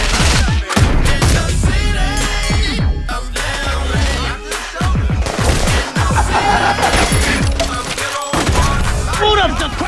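Gunfire in an action movie trailer: bursts of rapid automatic shots and single loud cracks, dense and close, with short silent gaps, mixed with music and voices.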